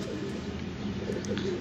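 Low, soft pigeon cooing murmurs steadily through a continuous background hum, with a few faint higher chirps near the end.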